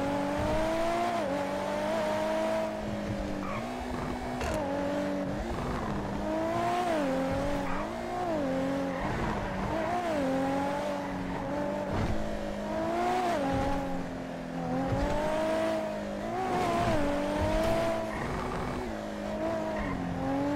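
A car engine driven hard in GTA V, revving up and down through repeated gear shifts with occasional tire squeals, steady and close throughout, with no talking.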